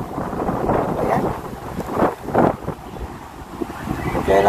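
Strong wind gusts buffet the microphone outdoors by the water during fishing, a rough, surging low rumble that rises and falls in bursts, with faint water movement beneath.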